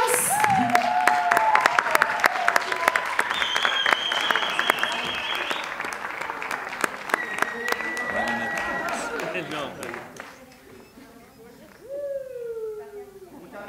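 Steady applause from a crowd at a pole dance show fills the space, with whistles and cheering voices rising over the clapping before it fades toward the end.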